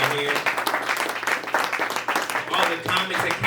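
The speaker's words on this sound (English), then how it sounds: "Round of applause for DJ Tiz." An audience applauding DJ Tiz at a comedy show, steady clapping mixed with cheers under someone talking over the crowd.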